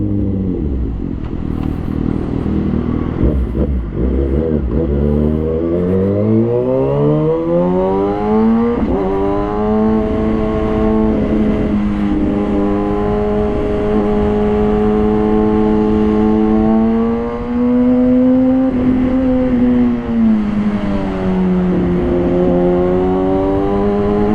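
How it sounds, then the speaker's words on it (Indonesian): A modified 2020 Kawasaki ZX636 sport motorcycle with an aftermarket exhaust revs continuously and loudly, its pitch sweeping up and holding high, then dipping and rising again in long drawn-out surges. "Lumayan ya suara knalpotnya, mantap ya."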